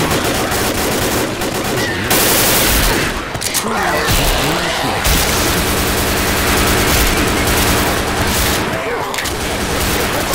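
Rapid pistol gunfire in the Left 4 Dead zombie game, a dense stream of shots over loud game noise and chaotic sound effects for the whole stretch, with distorted, muffled-but-loud game audio.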